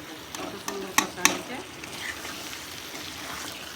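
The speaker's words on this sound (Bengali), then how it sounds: "একটু ভাজা ভাজা করে দেবো" Low, steady frying sizzle of mutton with a few sharp clinks and scrapes of a spoon stirring in a pan early on; no talking.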